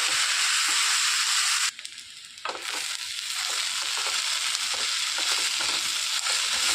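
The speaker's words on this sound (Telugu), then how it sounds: "ఇందులో తరిగి పెట్టుకున్న ఈ అరటికాయ ముక్కలు వేసుకోవాలండి ఒక్కసారి కలుపుకోవాలి" Raw banana pieces hiss and crackle in hot oil in a pan while being stirred, a loud steady sizzle that dips briefly as the pieces go in, then resumes with soft scraping.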